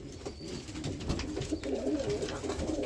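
Roller pigeons, including an ash blue red check bird, coo steadily in a loft at night, a low continuous burbling chorus over faint background hiss.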